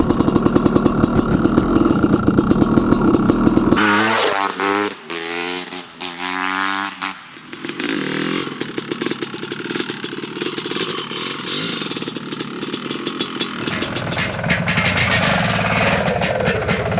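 A Honda CR500AF two-stroke motorcycle revs in cold weather: loud, rasping bursts that climb and fall in pitch, with choppy blips between steady, higher-pitched stretches of engine drone.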